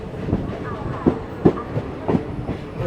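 The Tutari Express rolls through Vaibhavwadi Road station in the start of rain, with a rhythmic clatter of wheels on rail joints beneath a low rumble at moderate distance.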